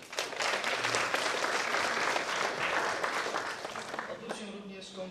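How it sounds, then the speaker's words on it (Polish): Dense, loud applause from a crowd at a school year-end ceremony, sustained for several seconds and tapering slightly at the end, with voices mixed in. "No to brawa"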